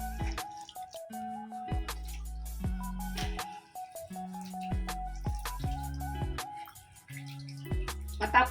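Water drains and drips as blanched vegetables are strained, a run of irregular splashes and plops close by in a kitchen.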